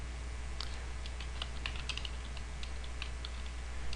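Quick, uneven keystrokes on a computer keyboard as a map title is typed in ArcGIS, close and fairly clear over a constant steady background hum, with no voice.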